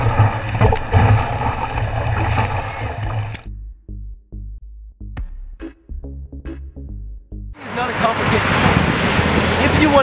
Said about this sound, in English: this wave that's come from miles away